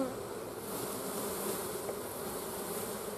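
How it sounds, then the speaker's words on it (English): Honey bees in a hive during winter brood management, a dense, continuous buzzing hum from many insects close by, steady and even throughout with no talking. "We've got a whole pile of bees underneath."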